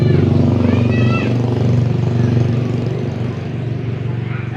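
A Toyota HiAce van engine running steadily just after starting, a loud, close, low droning hum that holds for several seconds, with a faint voice now and then.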